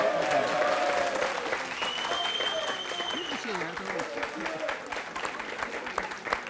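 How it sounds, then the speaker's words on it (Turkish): Live television studio audience applause, steady crowd clapping throughout with voices talking and a faint tone over it, moderately loud and continuous. "Sevgili Adnan Aybaba'yı alkışlıyoruz"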